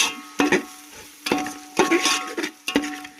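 Mutton with coriander and chili frying in a pan, with a few sharp stirring scrapes and clatters over a steady low sizzle, fairly close and moderately loud.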